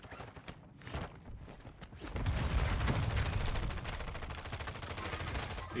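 Rapid gunfire bursts in a squad battle-royale shooter, sparse cracks at first, then a dense, loud stretch of sustained automatic fire with heavy low thuds.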